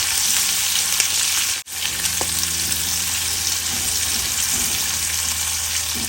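Long-sliced onion frying in oil in a pan for a masala karela dish gives a steady, loud sizzle throughout, with faint stirring clinks and one brief dropout, no talk over it.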